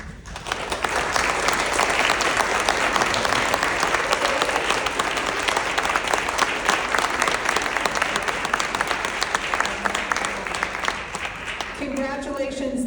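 Sustained round of applause from an office team meeting crowd, steady dense clapping that carries on for over ten seconds before tapering, with a voice briefly speaking near the end.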